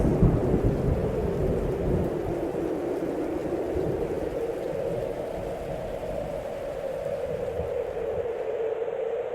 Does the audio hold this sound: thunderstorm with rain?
yes